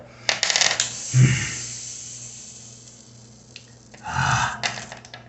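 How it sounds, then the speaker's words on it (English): Brief bursts of hissing sizzle, two distinct sputtering episodes with a quieter steady hiss between them, close and moderately loud, no talking. "More sizzle."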